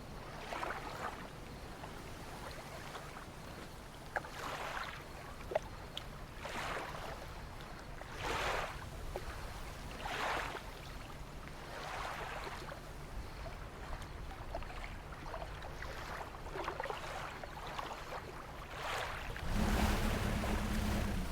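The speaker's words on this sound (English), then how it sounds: "Big waves." Big ocean waves surge and break in a slow, repeating rhythm every couple of seconds over a constant low wash of water and wind, with a louder swell building near the end.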